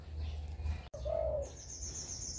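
Caged songbirds in a tiered aviary give short chirps and a clear whistled note, with a cooing dove low in the background and a longer high call toward the end.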